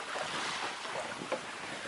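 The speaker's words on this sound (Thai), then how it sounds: "ตรงนี้มีคลื่นกระทบฝั่งนะครับ" Waves wash faintly onto a muddy sandy beach at Thung Prong Thong in Rayong, a soft, steady surf hiss mixed with light wind, distant and low in level, with no talking.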